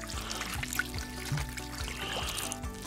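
Water being poured into a Dutch oven to moisten a mixture for an Oktoberfest pot roast, a steady trickling pour heard close up for the whole stretch, with no talking over it.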